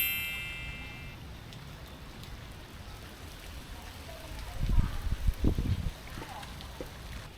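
Rain falling steadily around a waiting shed in Bangkok, a soft continuous patter with a few louder nearby splashes and knocks toward the end.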